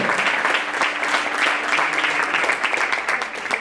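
Steady applause from a crowd at a women's all-star football match in Lugo as a player is introduced, dense continuous clapping throughout.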